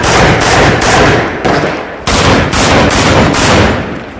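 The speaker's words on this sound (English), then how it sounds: "And these are shotgun," Rapid shotgun blasts ring out at a 3-gun shooting competition, about seven loud, close reports in quick succession with brief gaps between them.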